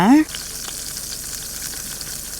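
Eggs fry in a pan at a night forest campsite, giving a steady, close sizzle with faint scraping, after a brief burst of voice at the very start.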